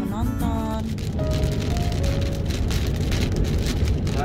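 Rain falls in a park about 50 km from Al Baha, Saudi Arabia, as a steady, dense hiss. A passing vehicle and faint tonal sounds mix in early on, and nobody talks.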